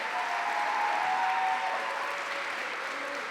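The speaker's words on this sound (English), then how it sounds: "let's give a big, huge round of applause to College Day at Brown for the 3rd year in a row" An audience at a College Day welcome event at Brown bursts into sustained applause, a dense, even wash of many hands clapping that swells and then eases slightly, with faint crowd murmur mixed in.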